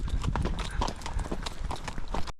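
A buckskin gelding's hooves clip-clop in a steady, close rhythm on a foggy morning while pushing cattle, the footfalls loud and continuous with no talking.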